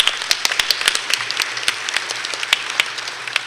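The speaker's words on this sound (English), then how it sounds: "let's give your parents a good applause for helping out" Audience applause at a city awards ceremony in Tempe honoring students and their parents, a dense run of sharp individual claps at a lively, irregular pace, close and fairly loud, with a faint low hum underneath.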